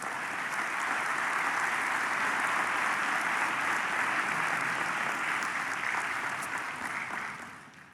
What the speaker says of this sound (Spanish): ¿Le da un aplauso al Señor por eso?